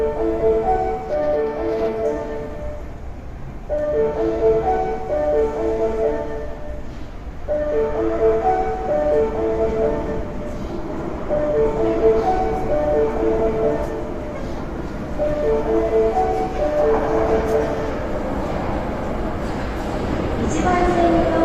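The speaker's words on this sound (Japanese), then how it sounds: "1番線に八尾南行きが到着します。" Osaka Metro Tanimachi Line 22 series train bound for Yaominami pulls into Higashi-Umeda station, a steady loud rumble of wheels and motors with tonal whine, while platform announcements play over it throughout.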